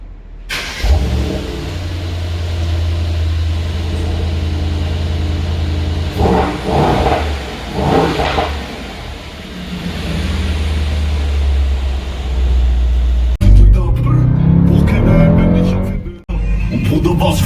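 Mercedes-AMG GT63 S with a twin-turbo V8 driving, its deep engine drone steady and loud, swelling with revs midway, then a sharper burst of acceleration and a brief gap near the end.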